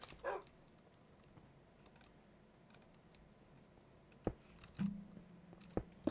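Tamed wolf dog in the video game Minecraft, a handful of brief, isolated yips and barks spread out over quiet game ambience with small clicks and thuds.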